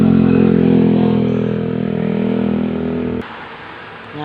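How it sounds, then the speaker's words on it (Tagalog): A motorcycle on a road passes close by with a loud, steady engine drone that gradually fades as it moves away, ending abruptly, with no talking. "Naglabay-labay mga sakyanan mga amegas. Ang motor."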